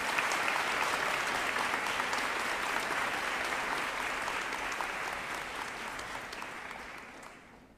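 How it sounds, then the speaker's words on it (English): A school Founders' Day audience breaks into sustained, dense applause that holds steady and then slowly fades toward the end. "I think she deserves a round of applause."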